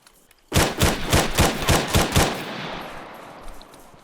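Burst of 5.56 rifle shots fired at a brick in ArmA 3, about seven sharp, loud reports in quick, even succession, followed by a long fading reverberant tail.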